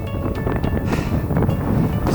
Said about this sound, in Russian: Тут снова дует жесточайший ветер.